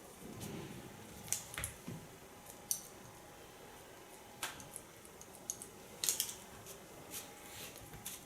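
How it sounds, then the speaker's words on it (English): Scissors point-cutting hair during a short asymmetric pixie cut, faint crisp snips arriving in scattered clusters over a quiet room hum, with no talk. "And connect both lines to each other with a point cut technique."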